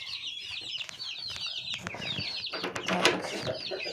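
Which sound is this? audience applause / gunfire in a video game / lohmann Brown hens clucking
lohmann Brown hens clucking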